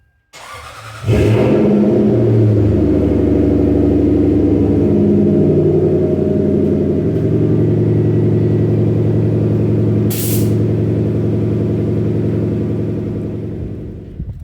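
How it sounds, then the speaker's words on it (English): Lexus LS400 V8 starting up through a full catback exhaust with an X pipe and two Flowmaster 10 mufflers: a brief crank catches into a loud, smooth, deep idle that holds steady close by, with no one speaking. "Full catback exhaust with an X pipe, 2 Flowmaster 10s. Sounds really good for an LS."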